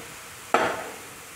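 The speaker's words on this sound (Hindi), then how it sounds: "इसे भी हम इस तरह फ्राई करेंगे।" Beetroot for halwa hits a hot pan with a sudden sizzle that swells briefly and then settles into a softer frying hiss, with no voices.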